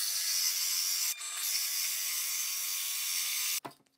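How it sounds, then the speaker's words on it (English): A VEVOR drill press drives a 4-inch hole saw into wood, giving a steady, fairly quiet grinding hiss with a brief dip early on, then stopping abruptly near the end. "It definitely struggles a little bit with that 4-inch hole saw."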